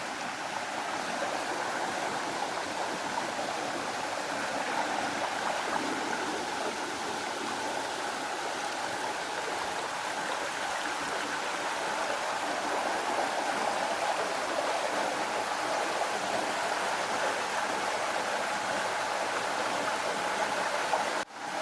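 Steady broadband rush of water flowing at an old stone washhouse (lavoir), a continuous close stream-like wash with no talk, holding even for about twenty seconds before cutting off.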